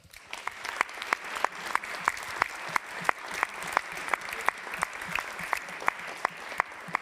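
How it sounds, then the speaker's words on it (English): An audience at a start-up competition grand final in Germany applauds the startups: sustained crowd clapping with a steady, sharp rhythm of distinct nearby claps standing out over the dense wash. "please, again, a big applause to all of our startups"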